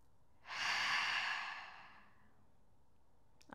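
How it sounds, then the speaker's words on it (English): One long, deep exhalation during a yoga block abs workout swells up and fades out over about a second and a half, close and breathy, followed by quiet. "Last full breath."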